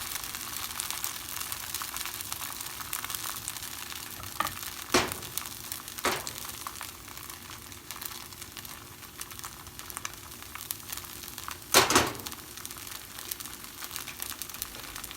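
Banh Xeo batter, a Vietnamese crispy pancake, sizzles and crackles steadily in a hot frying pan, a dense close hiss throughout with a few louder sputters and scrapes, no talking.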